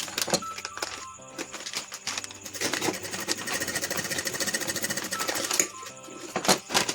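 A sewing machine double-stitches a seam along a plastic flour bag, running close and loud in a steady, fast mechanical rattle for most of the stretch, with brief stops and restarts near the start and end.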